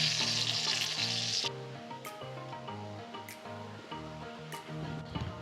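Whole dried red chillies crackle and hiss in hot oil for mango pickle, loudest in the first moment and then settling under steady background music.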